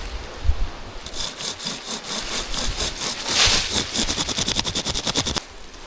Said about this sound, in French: C'est une scie à chaîne manuelle.